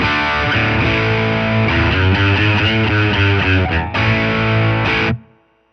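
A distorted electric guitar plays through a Fender Tone Master Twin Reverb amp, loud sustained chords and a riff, then cuts off and rings out into silence.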